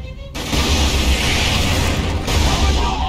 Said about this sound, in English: Orc rocket launchers on the high ground.